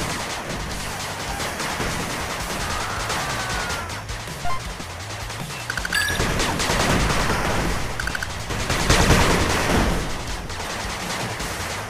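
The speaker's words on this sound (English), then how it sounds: "Machine gun turret under attack." Rapid machine gun turret fire from the retro-style strategy game 8-Bit Armies, continuous bursts of chattering shots with explosions and battle noise building louder toward the end, no voices.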